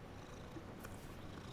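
A cat purring steadily and softly up close, a continuous low rumbling texture with no breaks over a short stretch.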